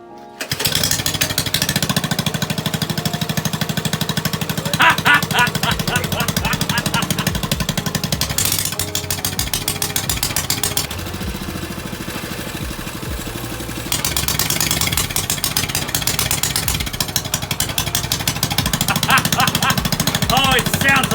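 A rebuilt Massimo Baja Warrior MB200 mini bike with a 196cc Honda clone engine and welded-up exhaust starts and idles with a loud, rapid, chattering putter close by, revving briefly a few times; no talk.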